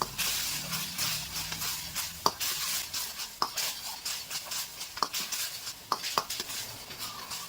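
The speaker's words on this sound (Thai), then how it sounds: "แล้วเราก็ผัดให้เครื่องปรุงของเราละลายเข้ากัน" Shiitake mushrooms are stir-fried in a pan with oyster sauce, light soy sauce, seasoning sauce, sugar and ground pepper, giving a steady close sizzle with occasional scrapes and clinks of a utensil against the pan.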